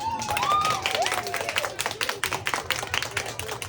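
A small group of people claps at a birthday party game as applause for the cat, with quick uneven hand claps and faint voices mixed in.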